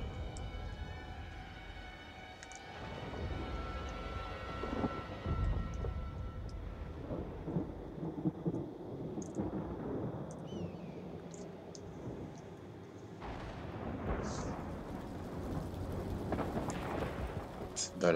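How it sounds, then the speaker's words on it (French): Thunderstorm in the Total War: Warhammer video game, with low rumbling thunder, rain and sharp lightning cracks rolling on and off, while someone talks over it at times. "la tempête, tous les orages, les éclairs."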